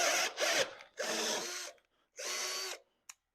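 A power drill bores into a tough Ford F-250 bumper in three loud, close bursts separated by short pauses, grinding harshly, with a faint click at the end.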